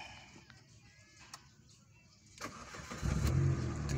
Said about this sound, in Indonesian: kita starter